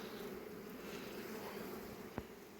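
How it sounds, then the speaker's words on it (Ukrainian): Honeybees hum steadily around a hive at a Carpathian mountain apiary, a faint continuous drone with one brief knock near the end. "А бджола взагалі от літає вулик і не реагує."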